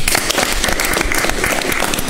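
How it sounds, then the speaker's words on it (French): A studio audience on a midday Malian television talk show applauds a guest, a short, loud, dense burst of clapping heard close. "Je vous demande de l'applaudir."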